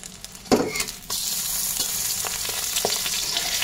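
An egg frying in a pan until golden on both sides, a close, steady sizzle with occasional sharper pops and a scrape or two, no talk.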